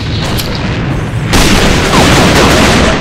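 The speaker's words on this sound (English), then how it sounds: "Fire in the hole! Enemy grenade!" A loud grenade blast in the shooter game AVA: a sharp boom that sets off a dense, sustained roar of gunfire and debris, filling the whole stretch with no voices.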